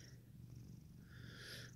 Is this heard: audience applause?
no